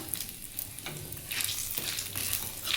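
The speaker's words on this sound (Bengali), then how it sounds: "ওই তেলের মধ্যে একটা শুকনো লঙ্কা ফোড়ন দিলাম আর একটু পাঁচ ফোড়ন দিয়ে দিলাম" Dried red chilli and five-spice seeds spluttering in hot oil, left after frying okra, with a steady close sizzle, crackle and occasional stirring scrapes that swell louder toward the end.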